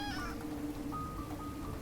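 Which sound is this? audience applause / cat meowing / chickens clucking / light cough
cat meowing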